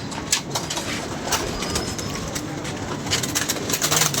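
Pigeons cooing in a loft amid a busy, noisy background, soft repeated coos blending with rustling and faint human sounds.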